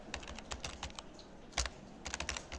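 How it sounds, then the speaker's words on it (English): Code being typed on a computer keyboard: a steady, close run of crisp key clicks in uneven bursts, with one louder thump partway through. "So I'm typing code now"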